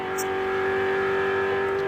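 A 1985 Ford Mustang touring car races around the Bathurst circuit, a loud, close engine howl holding a steady high-revving tone for the whole moment.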